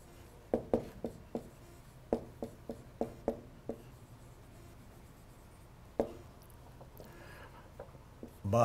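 Equations being written out by hand for a fluid mechanics dimensional analysis problem, with a series of separate close tapping and scratching strokes in short bursts amid quiet pauses.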